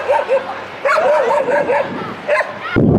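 Ownerless street dogs in Sumqayit, outside a school, yip and whimper in rapid high cries, close and loud, with voices mixed in and a harsh noisy burst at the end.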